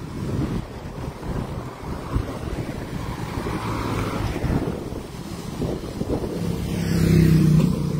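Steady road traffic in Majicavo, Mayotte, a continuous loud rumble of passing vehicles with wind buffeting the microphone, swelling slightly near the end.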